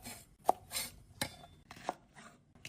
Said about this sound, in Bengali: এভাবে আমি সবগুলো ভেন্ডি কেটে নিচ্ছি